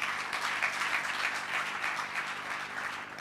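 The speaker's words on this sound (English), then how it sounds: "You can clap now for them." A ceremony audience claps for honorees, producing sustained, even applause from many hands with no voices standing out.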